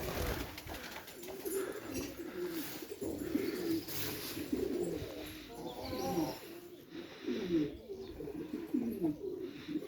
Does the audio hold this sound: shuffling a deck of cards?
no